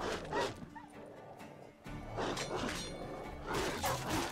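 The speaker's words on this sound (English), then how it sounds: "What is that one dog?" Dog barks in The Witcher 3: Wild Hunt, a few sharp woofs mixed with a horse's hooves and other game sounds, with voices talking over the scene.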